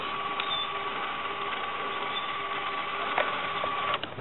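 A solar tracker's DC motor runs faster with a boost module fitted, giving a steady, even electric whine with a faint mechanical buzz that holds throughout, close and unbroken.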